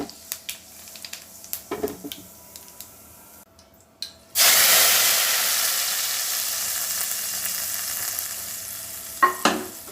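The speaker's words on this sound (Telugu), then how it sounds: "ఆవాలు వేగిపోయినాయండి" Steady loud hiss of mustard seeds frying in hot oil bursts in suddenly after a few soft clinks and taps, sizzling on continuously, with a couple of utensil knocks near the end.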